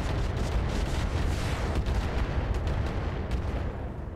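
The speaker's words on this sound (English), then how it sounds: "we'll fire everything on this guy. Come on, hit with a lot of those missiles." Missiles fired in a video game, a dense continuous barrage of booming launches and blasts that stays loud and steady throughout, with no talking.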